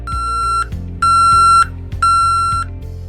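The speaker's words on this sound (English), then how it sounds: "the lock warning alarm will sound." Three loud electronic beeps, each about half a second long and evenly spaced, over a low mechanical hum: a line-haul truck trailer's lock warning alarm.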